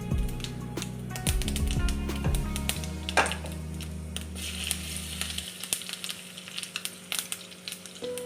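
Mustard seeds spluttering in hot ghee in a kadai used for roasting horse gram, a dense crackling sizzle with rapid popping over a low steady hum, close and fairly loud throughout.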